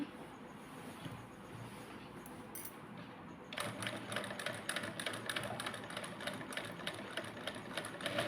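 A sewing machine stitching after its needle has been set, starting with quiet handling and then running in a fast, steady mechanical clatter that stays loud and close to the end.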